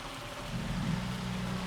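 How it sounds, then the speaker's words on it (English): Heavy rain falls steadily in Farming Simulator 2025, a dense, even hiss with a low rumble underneath and no voices. "this rain is just terrible"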